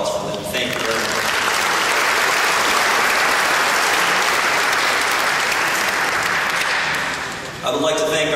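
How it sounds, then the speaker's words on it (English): An audience at a high school graduation ceremony applauds in a loud, dense round that lasts about seven seconds. It then fades, and a voice comes in at the end. "So another nice round of applause for them"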